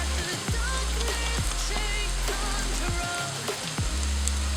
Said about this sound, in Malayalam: മഞ്ഞളിൻ്റെ പച്ചച്ചൊവയെല്ലാം മാറുന്ന വരെ വഴറ്റണം